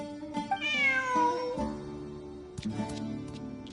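Cat in the Genshin Impact video game, a couple of clear rising and falling meows close by, followed by quieter game sounds.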